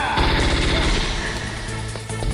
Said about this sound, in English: This machine gun is not the easiest thing to use.